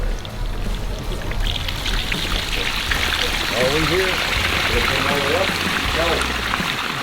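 Water from an island pond pours over a newly made rock waterfall in a steady splashing rush that swells slightly partway through, with people calling out briefly over it.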